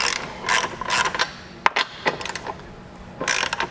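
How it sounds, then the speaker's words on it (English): Ratchet socket wrench clicking in short bursts while removing tight factory nuts from the rear control arms of a Can-Am, with close, crisp repeated clicks and brief pauses between strokes. "We'll take our socket and we'll remove"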